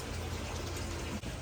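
Water siphoned by gravity out of a 500-gallon goldfish pond, a steady close rushing and trickling flow with no pauses.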